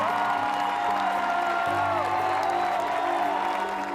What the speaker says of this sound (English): My hands hurt so bad from clapping because it just went on and on.